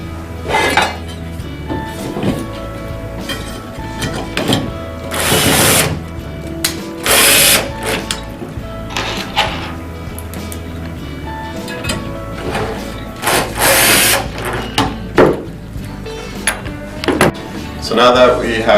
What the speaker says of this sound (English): I'm just going to use the short screws that were provided to mount the bracket to the cleat